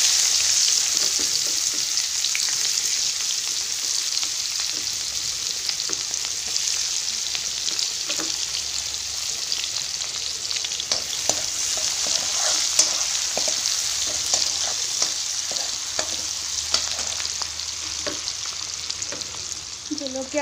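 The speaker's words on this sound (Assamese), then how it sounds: "আমি গৰম হৈ থকা তেলখিনি এতিয়া পিঁয়াজ দিম" Onions frying in hot oil left over from frying fish for a fish curry, a loud continuous sizzle with scattered crackles and occasional stirring clinks throughout, no voices.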